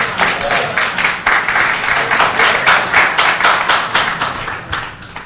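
Audience applause at a city housing and economic development hearing: a room of people clapping steadily and fairly close for several seconds, with dense uneven claps that gradually ease off.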